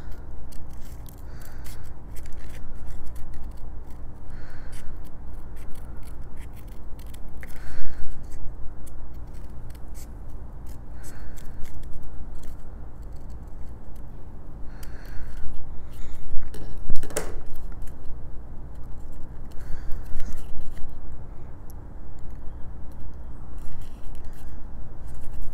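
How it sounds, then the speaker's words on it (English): Scissors snip through paper while excess is trimmed from a Graphic 45 trinket box, a close run of repeated crisp cuts with brief pauses and no voices. "Now we just cut out the excess."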